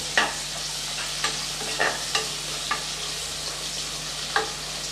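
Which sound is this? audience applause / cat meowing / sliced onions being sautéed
sliced onions being sautéed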